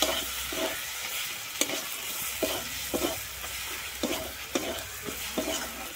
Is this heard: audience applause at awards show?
no